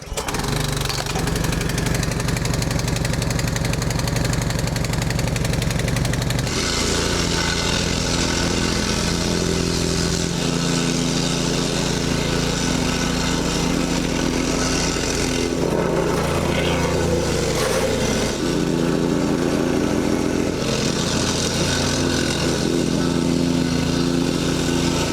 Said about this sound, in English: I'm going to give the path a quick blast with the whacker plate